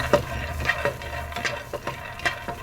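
Raw peanuts dry-roasting in a pan and stirred steadily, giving repeated soft rattling scrapes and light clatter at an irregular rhythm, close and moderately quiet.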